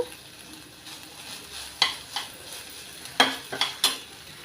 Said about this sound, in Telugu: ఇలా వేయించుకోవాలన్నమాట కొంచెం ఒక ఐదు నిమిషాల పాటు